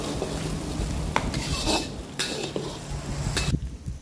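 Spice ingredients fry in a pan until golden for Bombay-style spiced fried mutton: a steady loud sizzle with scraping stirs and occasional metallic clinks of a utensil against the pan, no talking.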